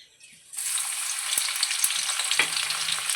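Quiet at first, then a sudden loud sizzle as garlic and cumin hit hot oil, crackling steadily with a few sharp pops and scrapes.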